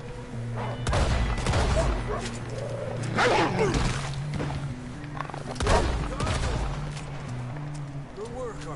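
Red Dead Redemption 2 gunfire pops in scattered, sharp shots among horses and shouting voices, mid-distance and intermittent.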